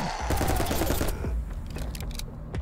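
Rapid bursts of gunfire from a zombie survival video game, 10 Miles To Safety, fill the clip as overlapping close shots rattle off in quick succession, thinning out into scattered single shots near the end.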